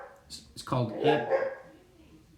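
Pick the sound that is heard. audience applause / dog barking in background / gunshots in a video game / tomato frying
dog barking in background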